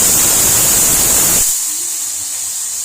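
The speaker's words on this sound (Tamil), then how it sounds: "இப்போது குக்கரில் விசில் வந்துருச்சு." A pressure cooker cooking chana masala vents with a loud, rushing hiss of steam that drops off suddenly halfway through, leaving a softer hiss behind.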